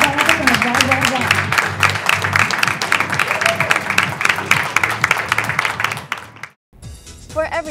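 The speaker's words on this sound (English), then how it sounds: "Let's give them all of our delegates and a round of applause." A pageant crowd claps and cheers loudly for the Miss Homestead USA delegates, dense applause with shouts and a sustained musical tone underneath, cutting briefly to silence before another burst of sound.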